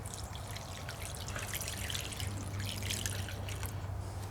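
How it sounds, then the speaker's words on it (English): Hot soapy water is poured down the rain channel of a Mitsubishi Eclipse rear hatch, a faint steady trickle and drip with no talk. "We got some hot soapy water here. Going to pour it down the rain channel."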